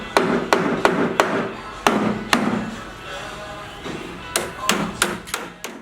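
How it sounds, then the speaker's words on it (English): A hammer taps expanded steel mesh to bend it to a right angle while building a DIY battery cage for laying hens. About a dozen sharp metallic knocks come close and loud in uneven bursts, with a short quiet gap between groups. "I'm just tapping it with the hammer to get a 90-degree angle"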